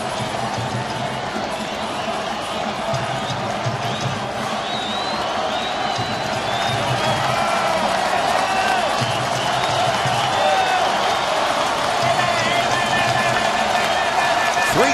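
A baseball crowd at an Angels at Athletics game rises to its feet, a continuous wash of cheering and clapping that swells gradually across the whole stretch.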